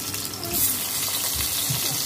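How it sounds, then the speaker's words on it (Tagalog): Slices of eggplant fry in a pan, a steady crackling sizzle with a few soft low thumps of the pieces being moved. "ipiprito ko na tong mga talong"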